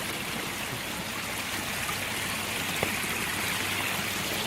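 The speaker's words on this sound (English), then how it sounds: "Check out this waterfall. I love how it splits on itself in 3 different ways there." A garden ecosystem pond waterfall spills and splits around rocks into a stream, making a steady, close, even rush of flowing water with no talking.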